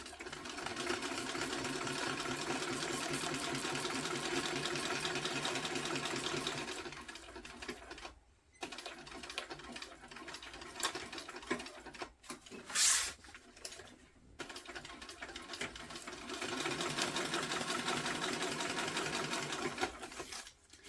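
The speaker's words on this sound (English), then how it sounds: "I'm going to back stitch there. Want those to be strong in the corners." A sewing machine backstitches the corners of a tote bag, running in steady bursts of rapid stitching with a couple of short pauses and a quick clunk near the middle, close and alone.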